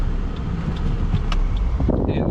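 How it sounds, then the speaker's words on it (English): A passing car swells and fades in a steady road roar heard from inside a stopped old Ford Fairlane, with wind noise and faint talk over it. "Oh, car coming."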